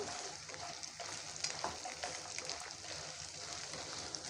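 Ginger pieces and curry leaves crackle in hot oil as a tempering. The soft, continuous sizzle carries a few sharper pops and spits, with no one talking.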